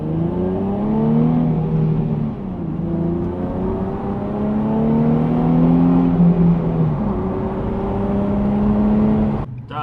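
A Nissan 350Z on straight pipes revs loud and close inside a parking garage, its raspy engine tone climbing and dropping through several long pulls and echoing off the concrete.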